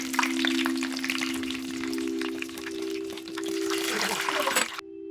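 Kerala mixture snack dough fries in hot oil while being turned over, giving a steady dense sizzle and crackle over a constant low tonal hum that cuts off abruptly near the end.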